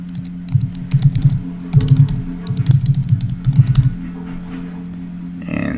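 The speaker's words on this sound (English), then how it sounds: "I can just type my email address in" Keys clatter on a computer keyboard as an email address is typed in bursts of rapid, close taps with short pauses between groups, over a steady low room hum.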